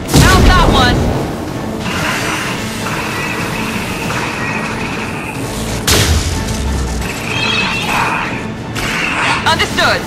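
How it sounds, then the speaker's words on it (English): A concussive shot from Mass Effect 2 lands as a loud, deep boom with a sharp crack and whoosh at the start, followed by a second blast midway, amid continuous combat noise and voices. "Concussive shot ready."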